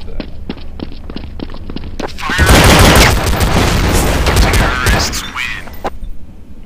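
Pistol fire in Counter-Strike: Source rings out in a quick series of evenly spaced shots, then gives way to a louder, denser burst of gunfire and impacts, close and loud, with a voice talking over it.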